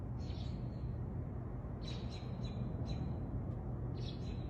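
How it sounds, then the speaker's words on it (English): Birds chirp in short, faint bursts on a chilly, hazy morning, scattered over a steady low hum of background noise with no talking. "Can you hear the birds chirping?"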